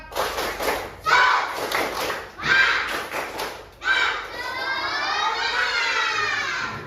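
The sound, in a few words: children doing a rhythmic spirit clap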